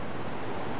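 Steady wind roars and buffets across the microphone, a dense continuous rush with no voices.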